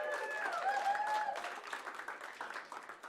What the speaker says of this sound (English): So let's welcome Leanna with a nice round of applause.